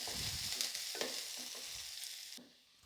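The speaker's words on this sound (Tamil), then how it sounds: "கருவேப்பிலை நல்லா கலரி விட்டுடணும்" Curry leaves and garlic frying in a pan while being stirred, a close steady sizzle with scraping strokes of a spoon, no voices.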